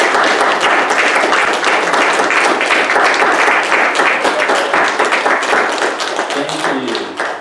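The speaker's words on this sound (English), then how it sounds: "Let's give them a round of applause." Sustained audience applause fills a congregation gathering at a Unitarian Universalist service, dense steady clapping from many hands at close range, holding loud throughout and fading slightly at the end.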